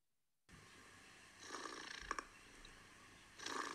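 A voice imitating a cat purring, a soft, rumbling, breathy sound rising and falling in two or three swells after a moment of silence, close and fairly quiet.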